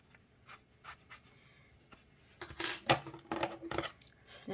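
Scissors snip excess yarn off a small crocheted octopus, a cluster of close crisp cuts and rustles after quieter handling sounds.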